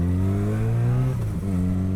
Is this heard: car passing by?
yes